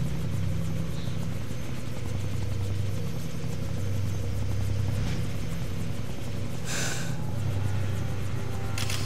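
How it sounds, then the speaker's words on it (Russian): A helicopter in Far Cry 3 gives a continuous loud, low rotor rumble that stays steady throughout, with a brief brighter whoosh about two-thirds of the way in. "Нельзя дать Олли сесть в вертолет."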